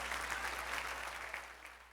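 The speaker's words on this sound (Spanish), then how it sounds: "Dale un aplauso al Señor." A church congregation applauds after a sermon, a short, fairly faint burst of clapping that tapers off.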